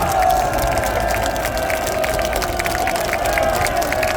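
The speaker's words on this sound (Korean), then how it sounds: "큰 박수를 보내주시기 바랍니다" Applause and cheering from a crowd at an outdoor political rally about alleged election fraud, loud and sustained with dense clapping and scattered shouts throughout.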